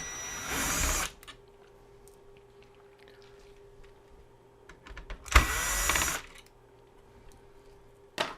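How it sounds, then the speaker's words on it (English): A power screwdriver backs screws out of a Sony RDR-VX530 DVD/VCR combo with a broken gear: two separate whirring bursts of about a second each, close and loud, with quiet small clicks and handling sounds between them. "Let's go ahead and pop a bunch of screws out."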